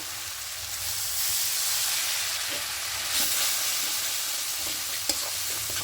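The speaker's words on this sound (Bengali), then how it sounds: "ভালো করে মশলাটা কষিয়ে নেব" Ground spices — coriander, cumin, turmeric and chilli powder with a splash of water — sizzle and fry steadily in a pan for potato biryani, a continuous close hiss with faint stirring scrapes and no talk.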